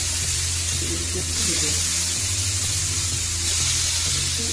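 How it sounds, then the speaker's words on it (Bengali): Potatoes coated in salt and turmeric fry in hot oil for a Bengali rui fish dish, giving a loud, steady, crackling sizzle throughout with a faint voice underneath. "তেলের ভিতরে আমি একটু আলুগুলোকে ভেজে নেব।"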